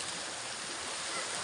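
A rural river in the Philippine countryside rushes steadily, a constant broadband wash of flowing water with no pauses, fairly soft and unbroken over a brief moment.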